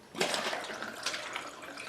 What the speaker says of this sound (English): we pour 1 ounce of the hard liquor, a 1/2 ounce of the sweet liqueur at the same time